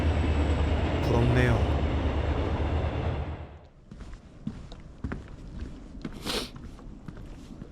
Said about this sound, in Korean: 마침 옆에서 지나가던 열차.